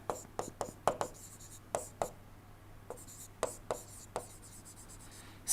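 Chalk or marker strokes on a board during an engineering lecture on steam turbines, a series of sharp scratchy taps and short scrapes in an irregular rhythm, close and fairly quiet, with a steady low hum underneath.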